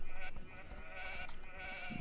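Sheep bleating in the real-time strategy game Age of Empires, a Celts match on the Nomad map, with short bleats repeating over the game's ambient sound.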